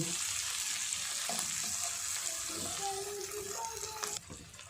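Sliced onions and two bay leaves fry steadily in a pan for a desi chicken curry, a dense continuous sizzle with occasional stirring and a faint watery hiss near the end.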